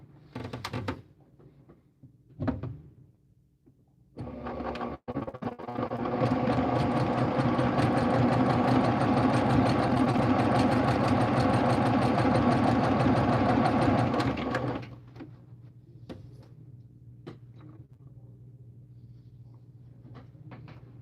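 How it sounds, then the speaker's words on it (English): A one-stitch domestic sewing machine runs steadily for about ten seconds, stitching on top of fabric with a continuous mechanical whir, preceded and followed by quieter handling clicks and thumps in a room. "unlike a serger, it does not cut fabric. It sews on top. A one-stitch wonder machine."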